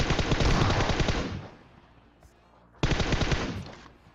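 Uzi submachine gun fire in PUBG Mobile: a long rapid automatic burst, then a pause with faint background, then a second sharp, loud burst of close, dense shots.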